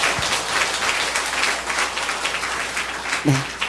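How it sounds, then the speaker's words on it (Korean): A church audience at a special Baptist gathering applauds, a dense, continuous wash of many hands clapping together that stays fairly loud throughout, with a brief low thump near the end. "여러분 하나님께 다시 한번 영광의 박수 올리고 싶습니다"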